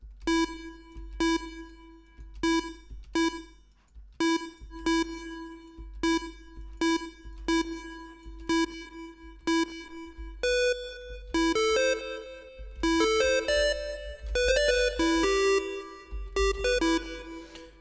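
Synthesized tonal notes in Bitwig Studio with a delay effect, playing a repeating pulsed pattern of clean bell-like tones whose echoes thicken into a denser cluster of overlapping notes toward the end, with no voices.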